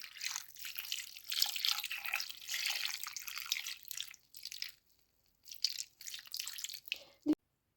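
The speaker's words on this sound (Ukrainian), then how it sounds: "І бублики потрібно залити молоком." Warm milk, about 300 grams, is poured over 250 grams of bagels in a deep bowl, making a faint, steady liquid splashing and trickling that pauses briefly, then resumes before a small clunk at the end.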